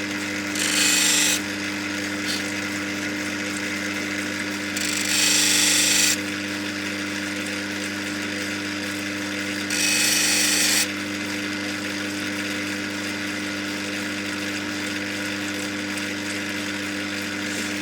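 A Lightning Ridge semi-black opal is ground and polished on a softer 600-grit wheel: a steady motor hum with a constant grinding rub, broken by three brief, brighter hissing bursts as the stone presses against the wheel.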